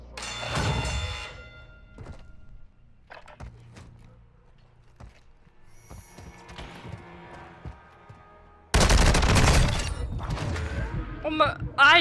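A Call of Duty Warzone 2.0 match with an MP7 submachine gun: scattered thumps and muffled shots give way to a loud dense burst of rapid gunfire near the end, with players' voices throughout.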